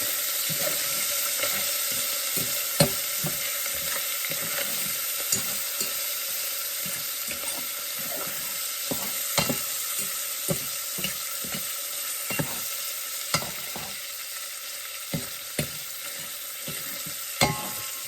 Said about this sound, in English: cook down my shallots and my roasted garlic